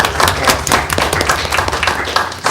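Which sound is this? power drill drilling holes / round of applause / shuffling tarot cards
round of applause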